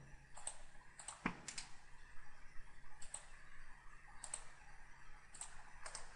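A computer mouse clicks in a quiet room, with sharp clicks coming singly and in quick pairs, at irregular intervals and no talking.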